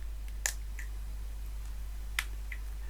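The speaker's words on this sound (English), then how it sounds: "just gently move it back into its slots and you'll hear it clip into place" Two small, sharp plastic clicks as a replacement screen on a Nokia Lumia 800 phone snaps into its frame, spaced apart over a steady low hum, quiet and close.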